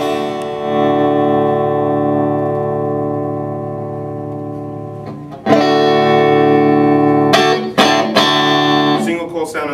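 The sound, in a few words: electric guitar through Orange Tiny Terror amp, clean, 7 watts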